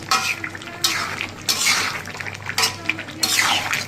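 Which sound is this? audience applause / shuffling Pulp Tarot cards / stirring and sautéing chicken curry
stirring and sautéing chicken curry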